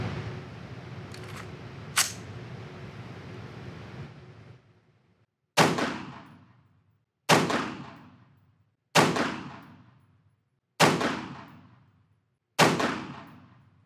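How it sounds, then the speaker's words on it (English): An AR rifle with a red dot sight fires a five-shot group at a target, five loud sharp reports spaced about two seconds apart, each with a quick decaying echo, after some faint background noise. "let's shoot our first 5-round group at the upper left target"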